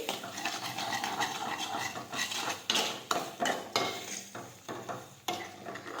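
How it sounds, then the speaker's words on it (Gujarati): Chana and urad dal with lemon juice being sautéed in a pan, with a spoon scraping and clinking against the metal in uneven strokes over a faint, soft sizzle, fairly quiet and close. "લીંબુનો રસ નાખીશું, હવે આપણે સાતળી લઈશું આ રીતે"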